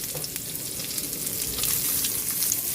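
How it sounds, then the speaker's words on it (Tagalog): Onion and carrots frying in a pan with garlic and ginger, a steady close sizzle of hot oil running throughout with no talking. "Luto na yung bawang at luya. Lagyan na natin itong sibuyas. Isabay na natin yung ating carrots."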